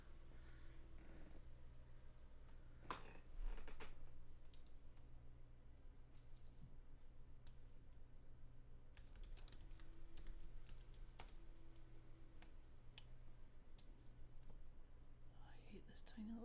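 Typing on a tiny computer keyboard while working in Photoshop, scattered quiet key clicks and short bursts of taps over a steady low hum, faint and close, with soft murmured speech.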